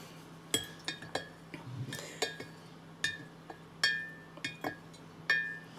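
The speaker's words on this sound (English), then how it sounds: "what I think I'll do is I'll give them a stir." Kefir grains being stirred inside a glass bottle, with about a dozen close, sharp clinks and taps of glass at an uneven rhythm over quiet background.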